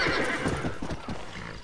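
A horse in the Western video game Red Dead Redemption whinnies loudly and close, with hoof clip-clop running under the call for almost two seconds and no talking.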